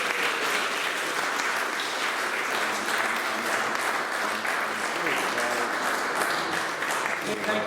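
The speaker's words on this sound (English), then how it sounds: "Let's have a round of applause for We See Hope" A crowd at the We See Hope charity rally gives a sustained round of applause, dense steady clapping at an even level throughout, with voices faintly mixed in.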